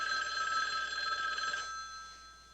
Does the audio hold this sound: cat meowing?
no